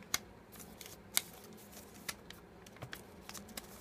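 Origami paper being unfolded and straightened while folding a devil flower, soft crinkles and a few sharp crisp paper snaps at irregular intervals, faint and close.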